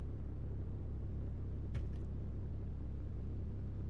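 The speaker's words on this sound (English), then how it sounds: "it's a small engine in a small car" The small engine of a Lotus Elise S1 runs with a steady, low, fairly quiet rumble that holds an even drone throughout, broken only by a faint brief click midway.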